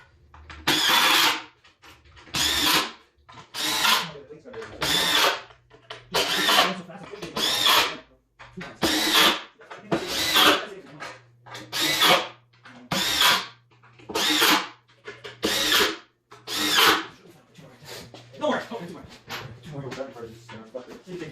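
A power drill drives screws into a 16-foot Tempest boat, with a steady rhythm of loud whirring bursts, about a dozen in a row separated by short pauses, recorded up close.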